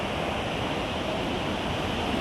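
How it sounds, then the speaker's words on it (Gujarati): A mountain stream on the Kedarnath trek rushes continuously with a steady, broadband roar, even and unbroken throughout. "અહીંયા એક સુંદર મજાનું ઝરણું આપણે જોઈ શકીએ છીએ"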